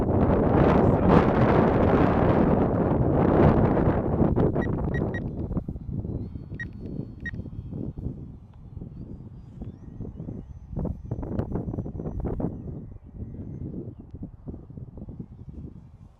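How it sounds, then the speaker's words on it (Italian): Strong wind buffets the microphone at an outdoor flying field during a maiden flight of a Durafly Night Tundra model plane, giving heavy rumbling gusts that rise and fall, with a few short electronic beeps. "questo vento è disastroso"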